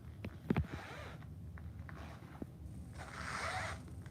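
A zipper on a toiletry bag is pulled in a few short, quick rasping strokes, followed by a longer, softer zip, close and quiet with no talk.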